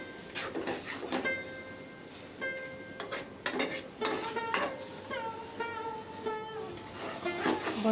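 A spoon clanks and scrapes against a pan while fried eggplant is stirred into cooking spinach, with irregular metallic clinks and soft sizzling close up.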